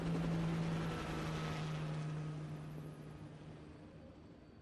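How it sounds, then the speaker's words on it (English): A helicopter in Resident Evil 4 spins up and takes off, giving a steady low rotor drone with a hum that slowly fades as it moves away. "helicopter get off spun up and took off really, really, really quickly after landing"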